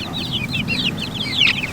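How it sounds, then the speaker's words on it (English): A young barred cochin rooster clucks and peeps in short, repeated calls, close by and fairly clear over a low steady background hum, with no talking. "I think he's my barred cochin."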